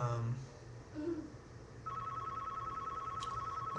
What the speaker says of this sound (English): Hold on, the phone's ringing.